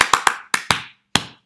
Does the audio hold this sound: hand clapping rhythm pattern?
yes